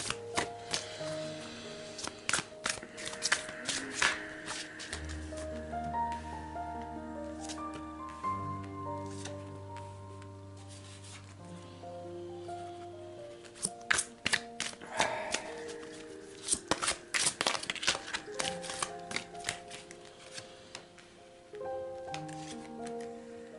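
Tarot cards being laid out for a magic square spread, soft close card slaps and shuffling rustles in irregular bursts under gentle background music.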